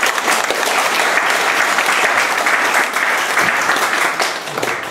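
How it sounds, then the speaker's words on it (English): Loud, sustained applause from an audience at a book talk about East Village photography, a dense, continuous roar of clapping that holds steady before easing slightly at the end. "I want to really get a big round of applause for Marilyn and Marlise and Ono and George and Karen"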